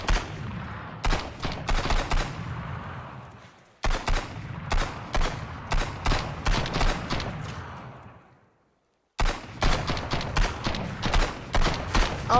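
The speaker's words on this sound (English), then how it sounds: "He's shooting through the damn building" Gunfire shooting through a building in the Sunkenland co-op survival game, with loud, close rapid shots in uneven bursts that break off twice into near silence before resuming.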